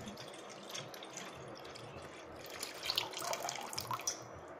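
Water running from a sensor-controlled public tap into a bottle, a steady quiet splashing flow with a slightly rising, brighter patter toward the end.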